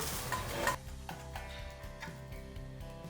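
Soya and egg wrap frying in oil or ghee in a pan, with a loud sizzle at the start that drops to a steady, quieter crackle and light scraping of the pan.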